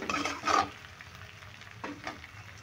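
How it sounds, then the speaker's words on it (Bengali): Spices being stir-fried in a pan for cauliflower paratha stuffing: a brief burst of sizzling and scraping near the start, then a quieter sizzle with a second short stir near the end, no voices. "এবার এই মশলাগুলো খুব ভালো করে কষিয়ে নেব।"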